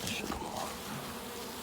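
Thousands of honey bees from a package drop into a hive box, making a dense, steady, close buzz throughout, with faint voices in the background.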